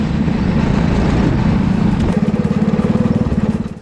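Racing go-kart engine driving out of a left-hand final corner onto the track's long straight, a loud, close, continuous buzzing drone that turns into a rapid pulsing rattle in the second half.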